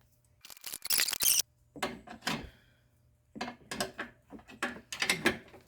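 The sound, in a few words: ratchet wrench loosening a bolt on an F150 upper control arm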